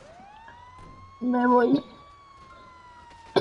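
A fire truck siren in the Grand Theft Auto video game holds a steady rising wail throughout, while someone briefly speaks over it partway through.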